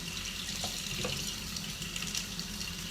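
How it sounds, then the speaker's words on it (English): Hands rinsed under a running kitchen tap, a steady close hiss of flowing water with light splashing changes as the hands move through the stream. "I have to rinse my hands and wash them quickly"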